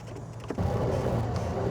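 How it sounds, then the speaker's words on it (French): LTS Marine electric boat motor driving its propeller, a steady whirring hum that steps up louder partway through and carries on evenly, with no talking. "Donc, on entend juste l'hélice, finalement."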